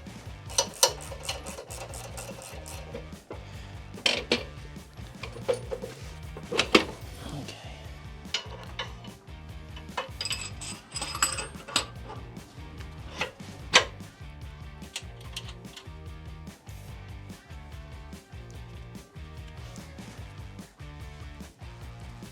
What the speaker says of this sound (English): I'm gonna put these in the frame. 7/16 socket.